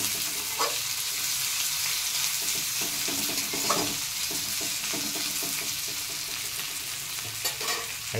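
Onions for fried rice sizzle steadily in a hot pan, with occasional scrapes and stirs of a utensil breaking through the continuous frying hiss; no one speaks.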